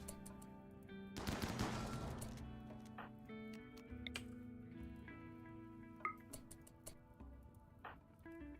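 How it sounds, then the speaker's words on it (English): In the RimWorld video game, a rapid burst of gunfire rattles for under a second, then scattered single shots and clicks follow, all fairly faint. "Alright, shoot that."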